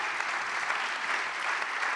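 An audience claps steadily for an event organiser at the closing address of a conference, a dense, even wash of hands from many people filling the room without pause or break.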